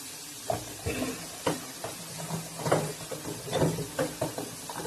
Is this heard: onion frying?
yes